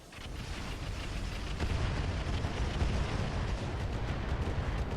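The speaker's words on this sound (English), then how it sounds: "we can start tossing artillery at this guy to soften him up a bit" Artillery fire in the video game RogueTech, heard as a continuous heavy rumbling barrage with deep booms and crackling blasts that swell slightly louder partway through.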